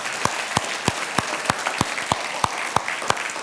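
A church audience claps for the children's instructors, the claps landing in a steady, even rhythm like a group clapping in unison, crisp and moderately close, with no talk over them.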